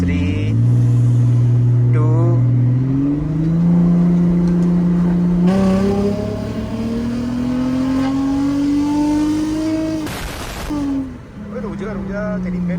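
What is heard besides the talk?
car turbo engine revving with AC switched off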